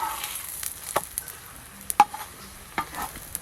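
Lachha paratha egg rolls fry on a hot tawa with a soft, steady sizzle, punctuated by scattered sharp clicks and scrapes of a spatula moving them about, close and without talk.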